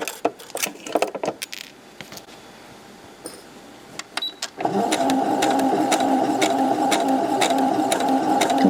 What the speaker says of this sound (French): Il suffit juste de coudre sur la couture qui existe déjà.